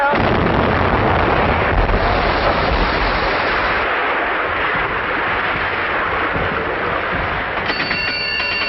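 Artillery guns fire in a 1937 British spy film scene at sea, with a submarine nearby: a loud, sustained roar of blasts and rumbling over about nine seconds, with no voices.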